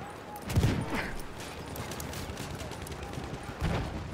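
Enemy machine gun fire in a video game battle rattles in scattered distant bursts, with two heavier thumps standing out against a steady noisy battlefield backdrop.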